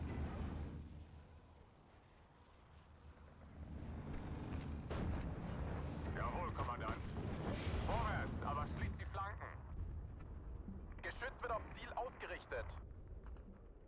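Artillery fire in the WWII strategy video game Steel Division 2: several deep booms and crackling impacts swell and fade through the scene, with someone talking over them.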